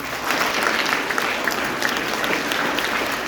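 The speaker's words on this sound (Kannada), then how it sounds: "ಆ ಎಲ್ಲ ಸೈಂಟಿಸ್ಟ್ಗಳು ಒಂದು ಚಪ್ಪಾಳೆ ಹೊಡಿಸ್ಬಿಡೋಣ." An audience at a school-style talk applauds the scientists with a steady, dense burst of many hands clapping, even and sustained from start to finish without voices.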